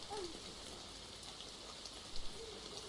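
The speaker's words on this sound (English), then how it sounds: "The rain began to subside," Soft, steady rain falling, a faint continuous hiss of drops with no other sounds over it.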